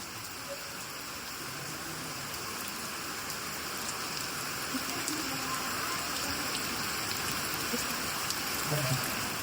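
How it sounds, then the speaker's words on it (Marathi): Heavy monsoon rain in Konkan pours steadily, a dense hiss of drops drumming on surfaces, growing slightly louder toward the end with no one speaking. "बघतोय तर काय पावसाचा हाकार एक सर आले पावसाची जोराची"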